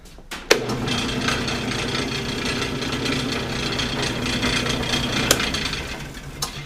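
A steady drill press motor hum runs throughout in a workshop, with a sharp knock near the start and another faint bump later, no voices.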